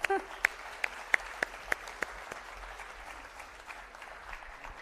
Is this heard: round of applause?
yes